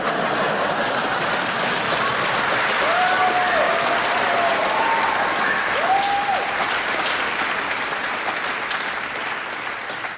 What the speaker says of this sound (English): big applause break